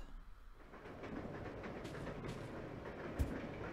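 A moving train in the video game Resident Evil Zero gives a steady low rumble with rattling carriage noise and faint hiss, continuous and fairly quiet with no talking.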